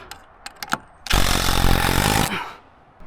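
A power drill boring a hole into treehouse wood: a few light taps, then a loud, close, buzzing whir of the drill biting for about a second and a half before winding down.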